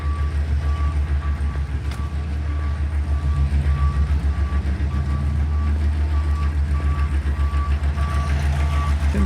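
Construction vehicles working by the Worcester riverside give off steady, evenly spaced reversing beeps over a loud low engine rumble, the beeping repeating throughout at a regular rhythm.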